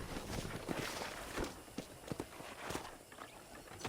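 Horse hooves walking on a ranch property in the video game Red Dead Redemption, a steady irregular clip-clop of footfalls close by over faint ambient background, with no talk.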